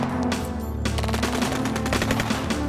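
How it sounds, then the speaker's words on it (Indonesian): Rapid automatic gunfire rattles continuously during a firefight between joint security forces and the KKB armed group in Yahukimo, dense overlapping bursts of shots at close range. "terjadi kontak tembak dengan kelompok KKB kurang lebih 1 jam"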